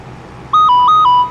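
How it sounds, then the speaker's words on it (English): A mobile phone rings with a loud, clean electronic ringtone, a repeating pattern of two alternating high beeping tones that starts abruptly after a quieter low hum and plays alone. "that's my phone going off"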